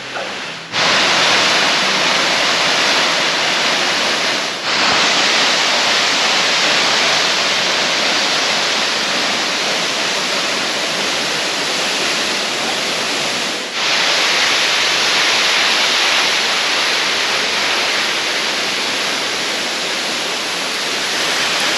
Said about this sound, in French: on va finir les quelques mètres pour arriver jusqu'au bord de ces cascades